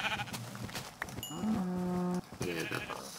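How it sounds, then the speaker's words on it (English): Sheep bleating in the video game Minecraft, a few short game-sound bleats, one held steady tone in the middle, heard over light background noise without talk. "One more sheep."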